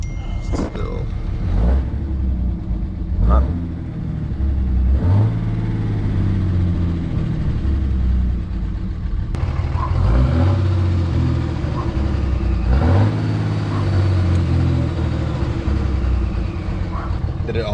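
A 24V Cummins diesel engine at high idle runs with a steady clatter that repeatedly breaks up and surges unevenly. It is close and fairly loud, and voices talk over it.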